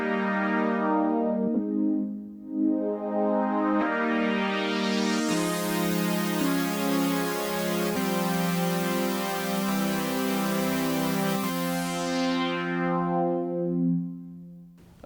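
A Korg KingKORG modeling synthesizer plays sustained chords through its modeled OB expander-module filter, which sweeps slowly open to a bright, buzzy peak and then closes back to a darker tone, with chord changes every couple of seconds.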